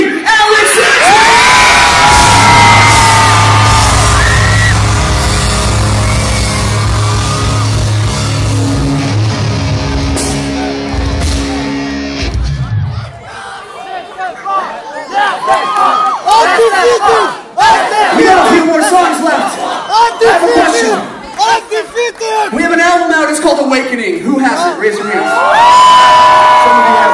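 A concert crowd at a live show in Denmark screaming and cheering loudly, a dense roar of shouts that breaks into scattered whoops, yells and an amplified voice calling out over the noise.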